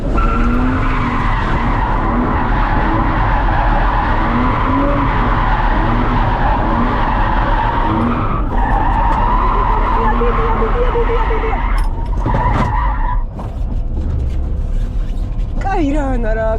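A drift car skids in continuous loud circles around an island on a practice track, its tires squealing and engine roaring steadily close by, with a brief change in pitch near the end.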